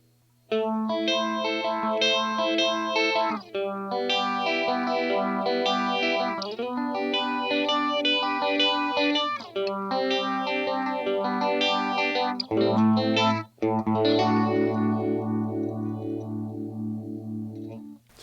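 A TC Electronic Helix Phaser pedal gives an electric guitar a watery, sweeping phase effect. Sustained chords and picked notes ring out loud and close for most of the eighteen seconds, with a deeper bass-heavy chord near the end.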